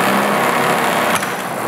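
A new-concept DC motor runs with a loud, steady high-pitched whine and buzz, close up, with a brief shift in tone partway through; no talking.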